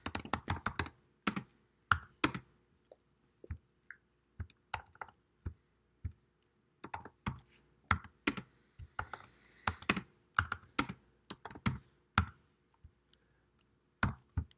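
Code being typed on a computer keyboard: close, crisp key clicks in irregular bursts and short runs with pauses between, no voices.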